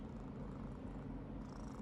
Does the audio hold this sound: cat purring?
yes